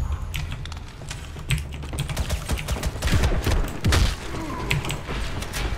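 Rapid gunfire from the Ghost in the Shell video game crackles in dense bursts, with sharp transients clustering around the middle and a steady clattery background, no talk over it.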